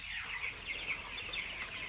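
Broiler and Sonali chickens at a wholesale poultry market cluck and chirp faintly from a distance over a steady background hum.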